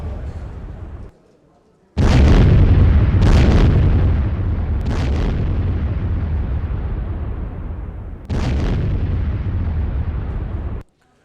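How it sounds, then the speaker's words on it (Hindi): Russian howitzer blown apart in an attack: a loud, heavy explosive roar erupts after a brief lull, with several sharp blasts bursting through the sustained rumble and a final strong blast before it cuts off. "आग के गोले में तब्दील हुआ रूसी हॉटजियर। यह देखिए अब आप, हमले में रूसी हॉटजियर पूरी तरह तबाह।"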